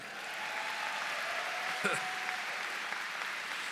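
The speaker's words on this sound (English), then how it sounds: "Y'all can cheer at that if y'all want." Audience at a Midland Valley High School ceremony applauds and cheers, a steady, fairly distant patter of clapping throughout with a brief louder burst midway.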